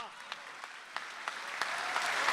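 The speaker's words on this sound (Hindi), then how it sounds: "अब ये तालियां आप बदल दीजिए वसीम साहब के खैर मकदम के लिए।" Audience at a 2017 Urdu mushaira and kavi sammelan in Dubai claps to welcome a poet to the stage, with distinct individual claps early on building into fuller, denser applause.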